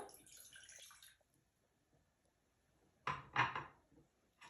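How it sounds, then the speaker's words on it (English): Water splashes and pours in two quick bursts into a pan after a stretch of near silence, close and fairly loud. "With our pan, we put in our cup of water"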